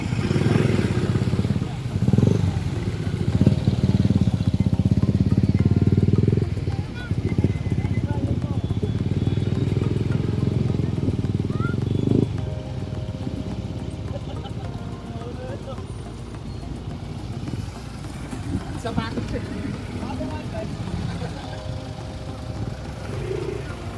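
A Yamaha NMAX scooter running near a camping site, with a loud, steady engine drone that eases off midway, while people talk over it.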